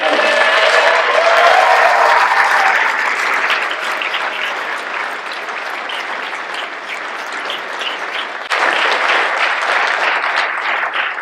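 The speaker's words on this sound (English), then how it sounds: "Please, a very, very warm round of applause for Veronica." A dinner crowd at an annual recognition event gives a warm, sustained round of applause for a honoree, dense clapping that eases slightly midway and then swells again near the end.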